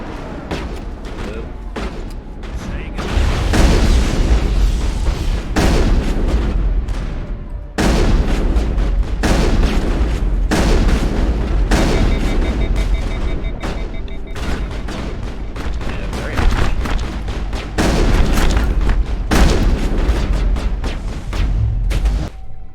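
Heavy shotgun blasts in Mass Effect boom in loud bursts over several seconds, separated by short pauses, with dense battle noise between the shots.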